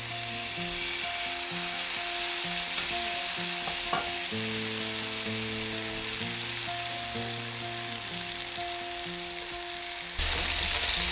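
Pre-peeled prawns fry in a pan with garlic, lemon, sweet chilli and honey, giving a soft, continuous sizzle over faint steady background tones, which becomes abruptly louder at the very end.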